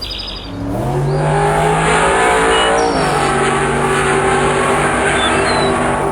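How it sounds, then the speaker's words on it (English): A car engine climbs a mountain road beside a stone wall, droning steadily and rising in pitch as it pulls, loud and close, with faint birdsong chirping above it. "The sound of the engine echoes against the stone wall"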